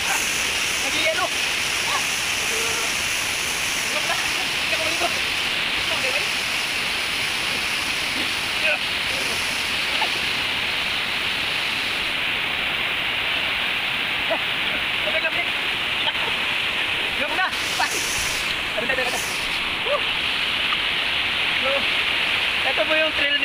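Tagbibinta Falls in Maragusan pours down heavily, a constant dense roar of falling water that is loud and close, with faint voices and a few small splashes and movements nearby.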